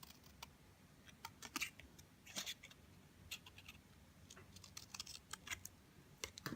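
Scissors snip flags into the ends of a paper notecard, a series of quiet, close, sharp clicks and cuts in an uneven rhythm.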